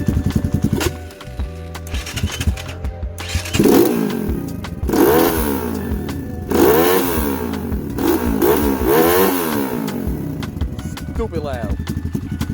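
A Lifan KP Mini 150 engine revs hard through its exhaust, close and very loud, in repeated rising and falling bursts over a rough idle. A voice talks beneath the engine.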